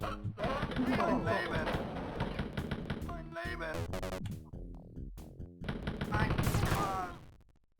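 Rapid bursts of gunfire in the Wolfenstein 3D video game, episode 6, crack out in dense repeated volleys through most of the stretch, with a voice talking over them.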